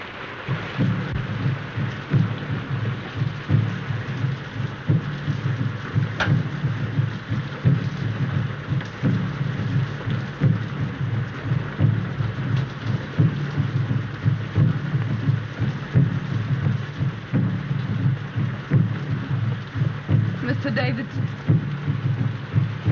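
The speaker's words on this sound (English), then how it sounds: "This rain and those drums." Heavy rain with thunder in a 1932 drama, a dense continuous downpour with low rumbling and distant thumping that holds steady for over twenty seconds.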